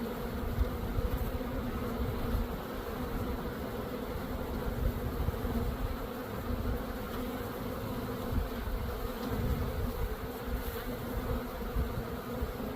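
Honeybees at a newly installed hive hum and fan in a continuous, even drone, close by and fairly quiet, with no talk.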